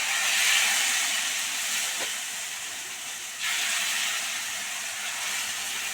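Dosa batter made from leftover cooked rice sizzles on a hot oiled pan as a steady, fairly loud hiss that swells slightly partway through.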